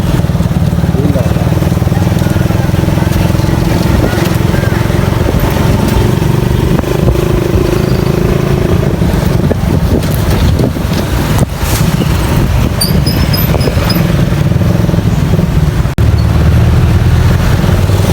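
A motorcycle rides through town streets and a market area in Naga, Bicol, its engine droning loudly and steadily with wind rush, while a rider talks over it.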